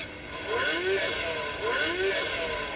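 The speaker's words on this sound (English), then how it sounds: "this car starts up with a revving noise, which is obviously not a Fiat 500" An electric Fiat 500 plays an artificial engine-revving sound at start-up, two rising and falling synthetic rev sweeps in a row, heard from close inside the car.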